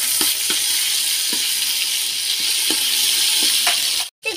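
Ginger garlic paste sizzles in hot oil with peanuts while making murmura snack mix, a steady loud hiss with a few faint stirring clinks, then a brief cut near the end.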